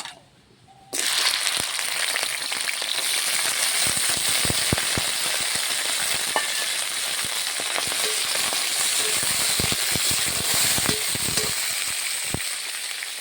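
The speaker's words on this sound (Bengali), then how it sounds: "এই তেলে কাঁকড়াগুলো ভাজবো।" Crabs sizzle and crackle steadily in hot oil in a pan for a crab and cabbage dish, a dense continuous frying hiss with scattered pops that starts abruptly after a brief quiet moment and stays loud and close.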